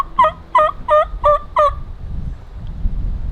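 A wild turkey gobbles in a fast series of five clear, rattling calls, moderately distant in open woods, followed by quiet rustling.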